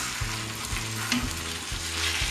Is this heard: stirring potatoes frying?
yes